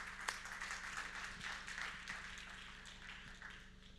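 An audience at a philanthropy summit applauds the startups, a steady dense wash of distant clapping at low volume over a faint hum.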